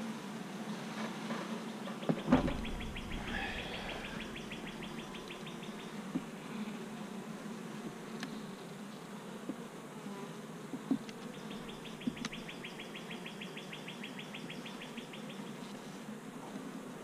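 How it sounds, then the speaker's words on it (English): A steady, close drone of many honey bees swarming around an open hive at inspection, with a low knock early on and a few faint chirps and ticks over the continuous buzz. "A lot of bees."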